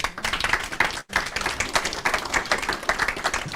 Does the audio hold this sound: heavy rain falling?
no